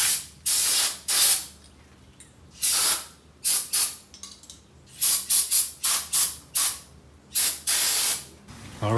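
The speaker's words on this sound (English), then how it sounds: "I'm gonna blow everything out with brake clean, and we'll blow all the passages out" Brake cleaner sprayed through VW Beetle engine parts and passages, a series of about a dozen loud, close hissing blasts, some long and some short, separated by brief pauses.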